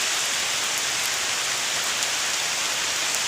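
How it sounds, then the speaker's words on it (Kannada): Steady rain falls outdoors amid green countryside, a dense, even hiss of drops on surfaces that holds constant throughout with no voices. "ಮಳೆ ಬೀಳ್ತಾ ಐತೆ ನೋಡಿ"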